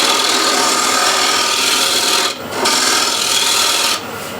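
A small wooden bowl spinning on a wood lathe while a gouge cuts it, making a loud continuous rasping scrape that briefly drops twice as the tool lifts off.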